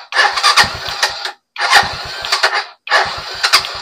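A Euro 150 motorcycle's electric starter cranks the engine in three separate bursts, each a loud, rapid, chattering whirr lasting about a second, with short silences between them.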